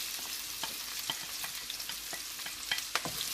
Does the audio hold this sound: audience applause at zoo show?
no